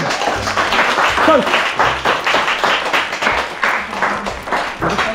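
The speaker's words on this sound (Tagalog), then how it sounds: "palakpakan muna natin, palakpakan!" A group of people clap in sustained lively applause, close and continuous, with voices calling out over it.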